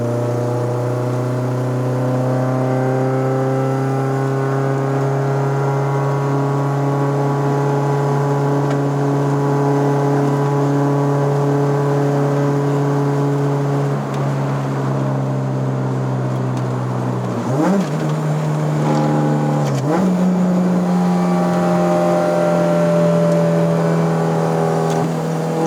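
Engine of a 2018 Honda City GM6.5 with a swapped Type R K20A four-cylinder, heard on a road test drive in Malaysia: a loud steady drone holds for a while, then revs briefly change pitch before settling into another steady cruise.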